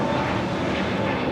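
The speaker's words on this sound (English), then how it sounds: "taking off the JFK, the A321neo LR, JetBlue, flight 524" JetBlue Airbus A321neo LR jet taking off at LAX, a steady, loud, broadband engine roar held constant over a brief stretch.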